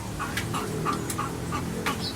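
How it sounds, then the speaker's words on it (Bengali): Rooftop chickens panting in the heat cluck softly in short repeated calls against a steady hum of background noise, fairly close. "মুরগিগুলো হাঁপাইতেছে গরমে স্যালাইন দেওয়া হয়েছে"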